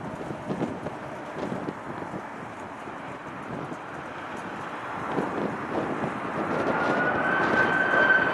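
An Aer Lingus Airbus A330 arriving from Dublin roars overhead at a windy airport, its jet engine sound rising from a distant wash to a louder, closer rumble, with wind buffeting the microphone.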